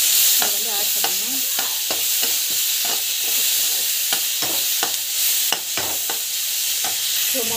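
Tomatoes sautéing in a frying pan, a steady hiss of sizzling under repeated scraping and stirring strokes of a spatula against the pan, close and continuous with no talk.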